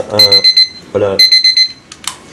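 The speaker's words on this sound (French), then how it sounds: "C'est un réveil qui sonne bien." An alarm clock rings in two loud bursts of rapid, bright electronic beeping, separated by a short gap, with voices talking in between.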